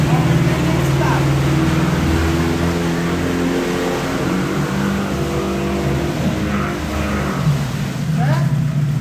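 A 30HP outboard motor drones loudly and steadily as it accelerates, its engine pitch holding a strong rising hum across the whole stretch, with a voice speaking over it.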